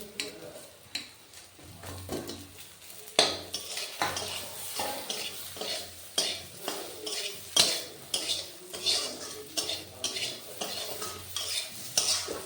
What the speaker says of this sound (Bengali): এই বেগুন ভাজার ওপরে এবার নিম পাতাটা দিয়ে দেবো গুঁড়ো করে।